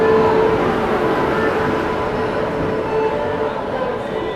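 Rewanchal Express train rumbling into Bhopal Junction, a loud, steady rail roar that fills the station and fades slightly toward the end.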